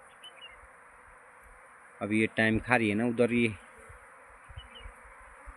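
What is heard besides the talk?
swarm of honeybees buzzing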